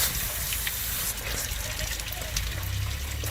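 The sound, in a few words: water pouring out during 1998 Lincoln Town Car coolant flush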